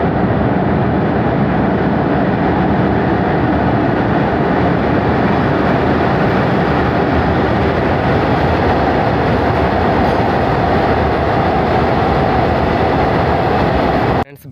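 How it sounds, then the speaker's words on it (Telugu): A train runs near the Obulavaripalli–Krishnapatnam railway tunnel, giving a loud, steady rumble with rattling carriages that holds for the whole stretch and then cuts off abruptly at the end. "చూడండి ట్రైన్ అయితే వస్తుంది."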